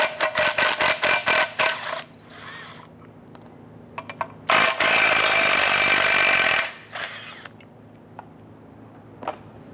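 A 13 mm socket loosens thermostat neck bolts at the water pump of a 2005-2010 Chrysler 300, with a rapid string of close ratchet clicks, scraping, then a long loud grinding burst and a few scattered taps.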